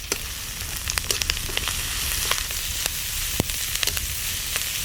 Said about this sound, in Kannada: ಸ್ವಲ್ಪ ಕರಿಬೇವಿನ ಸೊಪ್ಪು ಇದನ್ನು ಒಟ್ಟಿಗೆ ಹಾಕಿ ಫ್ರೈ ಮಾಡಿದ್ರೆ ಆಯಿತು